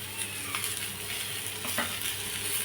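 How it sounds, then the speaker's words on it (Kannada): Onion, tomato, ginger and garlic fry in oil for a dhaba-style paneer curry masala, giving a steady close hiss with a few soft stirring scrapes and no voices. "ಎಲ್ಲನೂ ಎಣ್ಣೆಯಲ್ಲಿ ಫ್ರೈ ಆದರೆ ಚೆನ್ನಾಗಿರುತ್ತೆ ಮಸಾಲೆ"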